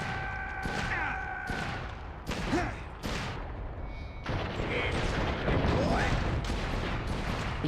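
Rapid bursts of video-game gunfire from a player shooting at enemies, loud and continuous with repeated sharp onsets and dense crackling blasts, no talk over it.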